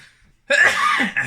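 A single close, harsh cough after a moment of near silence, with a short second burst at the end.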